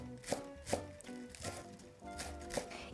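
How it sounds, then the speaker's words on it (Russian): Knife finely chopping young green onion shoots on a board: a handful of crisp, evenly spaced cuts, close and moderately quiet, with no talking. "Нарезаем мелко."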